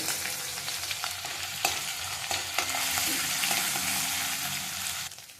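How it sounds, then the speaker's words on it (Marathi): Green chili, finely chopped garlic and grated ginger frying in a pan over a low gas flame for fried rice, a continuous close sizzle broken by a few sharp scraping stirs. "आपण ह्याच्यामध्ये आता मिरची टाकून घेऊयात आणि हे सगळंच टाकूयात मिरची बारीक चिरलेला लसूण आणि खिसलेलं आलं"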